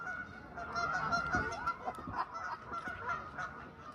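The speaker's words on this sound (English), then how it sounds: "all these geese started just barking like that." A flock of geese honks continuously, many overlapping calls blending into a noisy, agitated chorus at moderate distance.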